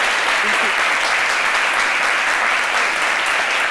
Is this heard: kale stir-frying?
no